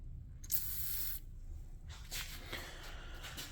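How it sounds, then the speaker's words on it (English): Freon is sprayed from an aerosol can onto the rear brake caliper bolts of a Honda del Sol, first as a steady hiss of about a second, then in shorter, softer bursts, heard close up. "So what I might do is I might spray a little Freon in there."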